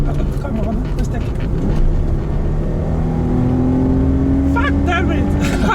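A Peugeot 406 V6 with a manual gearbox pulls hard, its engine note rising in pitch through the revs, loud and close from inside the car, with excited voices over it.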